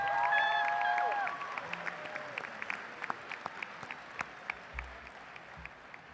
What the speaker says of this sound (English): give your parents a round of applause for everything they've done